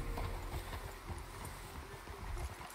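Horse hooves clip-clop in the Red Dead Redemption video game, a quick, irregular run of muffled thuds from several horses, faint and continuous under a low ambient bed.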